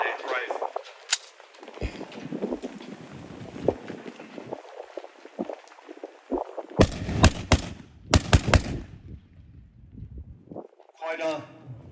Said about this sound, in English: he will then demonstrate the rate of fire of a semi-automatic rifle.